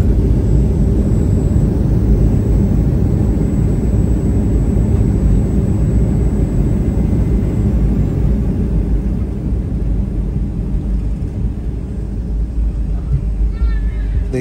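Loud, steady low rumble inside an airliner cabin just after landing at Abuja, a continuous engine and cabin roar holding level throughout with a slight easing near the end.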